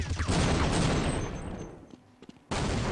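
A Counter-Strike match on de_tuscan at the WCG 2009 Grand Final, where dense, loud gunfire fills the first half, thins into a few sharp isolated shots, then resumes abruptly at full intensity.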